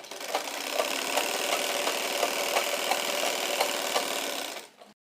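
A sewing machine runs steadily through a straight seam on a Patiyala salwar waistband, its fast even whirring and faint rhythmic ticking close and continuous before stopping at the end.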